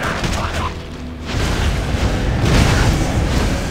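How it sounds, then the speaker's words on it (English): A loud, sustained explosion during a boss fight in the action RPG Torchlight 2, a dense booming roar that holds for several seconds and swells louder partway through, with combat noise layered over it. "God, that was an explosion and a half."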